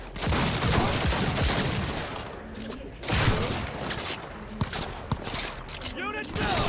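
Pistol fire in Cyberpunk 2077 cracks out in bursts amid chaotic combat noise, with dense overlapping shots, some sharp isolated pops, and a loud, cluttered game mix including faint voices.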